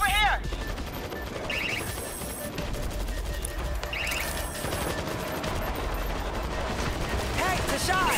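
An auto machine gun turret in World War Z keeps firing in dense, continuous bursts amid the chaos of a zombie fight, with game sound effects and voices layered over it throughout.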